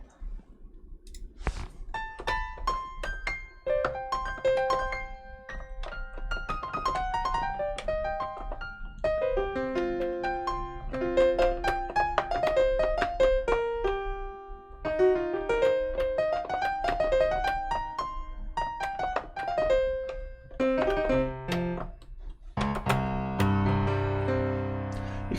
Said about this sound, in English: You can hear how beautiful that piano sounds.